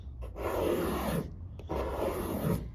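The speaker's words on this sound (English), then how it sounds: "Start scraping." A scraper is pushed across softened vinyl wrap adhesive on a Subaru WRX roof in two long, steady rasping strokes that sit close and fairly loud, with a short pause between them.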